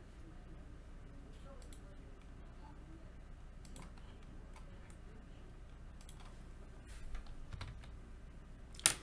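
Someone types a short search entry into customer-list software on a computer keyboard, a quiet scatter of light key clicks over a low background hum, with one louder keystroke at the end.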